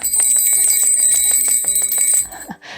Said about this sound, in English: The bell on this is very cute, can you hear it?